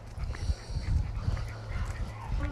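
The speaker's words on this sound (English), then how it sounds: "I've got all the dogs with me." Several dogs out on a walk yip and whimper nearby in short, irregular bursts over steady outdoor noise and faint voices.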